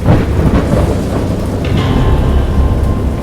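A loud, steady roar of heavy rain and storm noise with deep rumbling throughout, no voices, from a thunderstorm in the video game Dagon.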